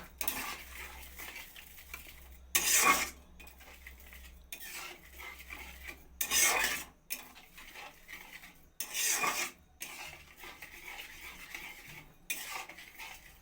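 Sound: stirring sugar into semai in a pan

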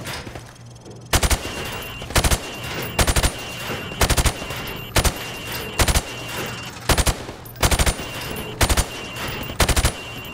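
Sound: gunfire shooting targets in the video game Call of Duty Modern Warfare

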